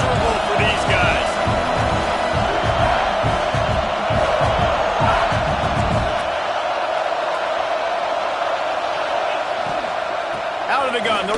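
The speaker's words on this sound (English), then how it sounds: "This crowd going to try to make life miserable for these guys." A football stadium crowd roars loudly and continuously throughout, a dense wall of cheering with heavy low rumble that thins somewhat after the first six seconds.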